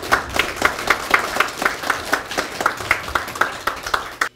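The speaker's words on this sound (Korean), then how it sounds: "큰 박수로 호응해 주시기 바랍니다" A crowd applauds at a clan association gathering, many hands clapping in a steady, fairly even rhythm at moderate loudness, then stopping abruptly at the end.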